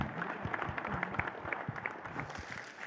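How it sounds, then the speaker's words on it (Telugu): Crowd clapping at a movie success celebration, a dense patter of many hands at moderate distance, steady and continuous with faint crowd murmur underneath. "సో ఎడిట్ టీమ్కి they should give a huge round of applause actually"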